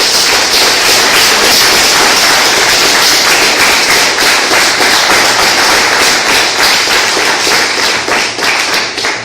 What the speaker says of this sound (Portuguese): Dê uma salva de palmas para Deus